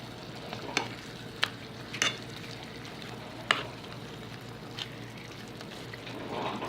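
Thin butter steak strips sizzle steadily in a hot pan, with a handful of sharp utensil clicks and stirring scrapes cutting through the constant crackling frying hiss.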